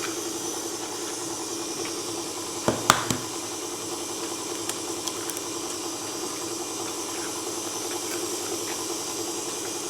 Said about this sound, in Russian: Выключаем миксер.